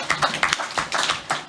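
Applause at a committee meeting, a brief burst of a few people clapping in quick uneven rhythm, close and fairly clear.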